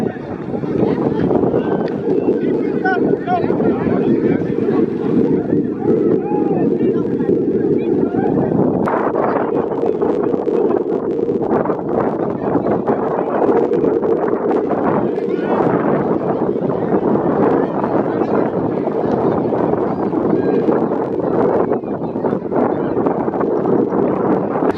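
Steady gusting wind at an outdoor semi-pro football game in Connecticut rumbles against the microphone throughout, loud and unbroken, with muffled background voices.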